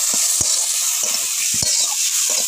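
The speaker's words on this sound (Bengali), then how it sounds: "এরকম করে, এরকম লাল লাল করে একটু ভেজে নেবেন" Shrimp frying in a pan for a cabbage dish, a steady close sizzle with several sharp clacks of a spatula stirring and scraping through it, no talking.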